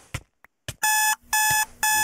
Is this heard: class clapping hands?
no